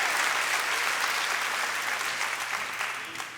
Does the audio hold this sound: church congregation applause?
yes